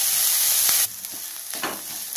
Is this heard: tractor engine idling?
no